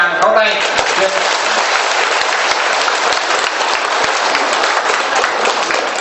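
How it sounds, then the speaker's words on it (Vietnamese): A large audience breaks into a dense, loud round of applause at a Vietnamese gathering in Hai Phong, sustained evenly for several seconds with a voice briefly audible at the start. "Nhiệt liệt cảm ơn cô bằng một tràng pháo tay."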